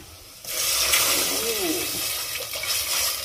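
Coconut milk dissolved in a cup of water is poured into a cooking pot for ginataang tilapia with kamias, a steady close liquid splash starting abruptly and running on with a faint voice briefly underneath.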